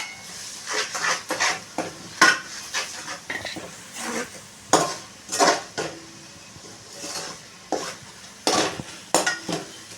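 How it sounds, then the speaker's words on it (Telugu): Dried prawns are tossed into a frying pan with curry leaves and stirred for a telagapindi curry, producing irregular close scrapes and clinks of a spoon against the pan over a soft sizzle, with no talk. "మనం ఫ్రై చేసి పక్కన పెట్టుకున్న ఎండు రొయ్యలు కూడా వేసేసుకుందామండి"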